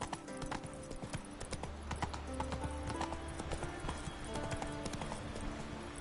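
Roach the horse galloping in The Witcher 3 video game, rapid rhythmic hoof clip-clops over a steady background with jingling tack, close and continuous.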